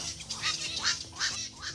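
A series of harsh, raspy quacking calls from a night heron repeats several times at close range, each one a short nasal squawk.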